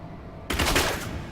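A rapid burst of automatic three-shot gunfire in Diablo III erupts after a moment of quiet, loud and close, rattling on for about a second before trailing off.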